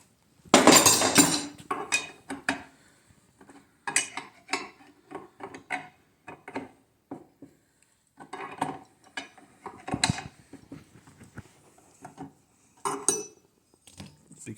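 A wrench works loose an over-torqued barrel nut on a Ruger AR556 upper receiver, giving close, sharp ratcheting clicks and metallic clanks in irregular bursts separated by quiet gaps.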